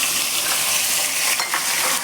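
Watermelon rind is stirred in a hot pan with seasoning spices and potato, a continuous close sizzle of frying with the scrape and shuffle of stirring, loud and alone.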